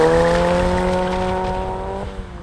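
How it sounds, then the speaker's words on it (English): VW Caddy fitted with a full custom Powerflow aftermarket exhaust, a steady engine drone with clear harmonic tones held for about two seconds, then dropping off near the end, close and fairly loud. "fitted the Caddy with a full custom aftermarket exhaust by Powerflow, and I really like how it sounds"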